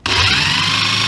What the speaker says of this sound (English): Yes, I'm putting a fairly deep countersink because I want the screws totally out of the way.